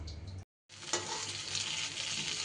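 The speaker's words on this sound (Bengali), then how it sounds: "এদিকে এই বড়াগুলোও দেখুন আমার সুন্দর করে ভাজা হয়ে গেছে" Fritters fry in hot oil with a steady, close bubbling sizzle, interrupted by a brief silent break before the sizzle resumes.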